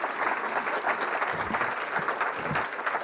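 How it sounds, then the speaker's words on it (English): A room full of people at a Rotary club meeting applauding a speaker, dense steady clapping sustained for a few seconds at close range. "Let's give him another big round of applause."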